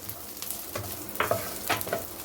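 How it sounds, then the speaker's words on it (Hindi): Roughly chopped capsicum and carrots sizzle and fry in a pan for white sauce pasta, a soft steady crackle with intermittent scraping stirs, quiet and close with no talking. "इन्हें भी हम 1 से 2 मिनट के लिए अच्छे से भून लेंगे।"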